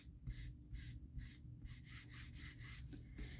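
Rhythmic back-and-forth rubbing as brown ink is worked over an embossed card to create a wood-floor texture: steady, regular scuffing strokes, close and soft, with no talking.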